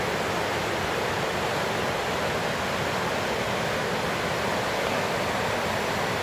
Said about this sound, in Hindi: नीचे झरना बह रहा है